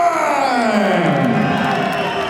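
Large arena crowd at a BAMMA 8 mixed martial arts event in Nottingham's Capital FM Arena, a steady roar of cheering and shouting that fills the hall, loud and continuous.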